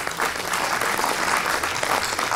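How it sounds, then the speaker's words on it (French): An audience at a public discussion breaks into applause, a continuous full-bodied patter of many hands clapping at once, loud and even from start to finish with no voices rising above it. "On peut applaudir aussi"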